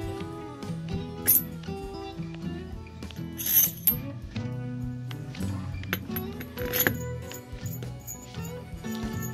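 A turbine nut is tightened during rebuild of a Cummins 6BTA/6CTA marine turbo, with repeated ratcheting clicks and small metallic clinks close by, irregular in rhythm and with a few sharper taps.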